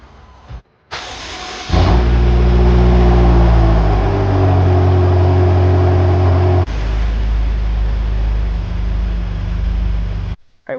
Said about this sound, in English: go ahead and start your car and turn your wheel inward